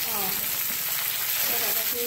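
Potatoes sizzle and crackle steadily in hot oil, close up, with faint speech in the background.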